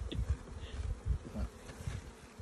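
Dense, steady buzzing of many honey bees at an open hive, a close, continuous drone with a low hum that swells and fades slightly, alone without talk.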